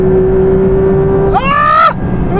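Cars drag racing a BMW over a quarter mile: a steady engine drone suddenly gives way to a loud, sharply rising rev as one car accelerates hard, then it drops back to a rumble.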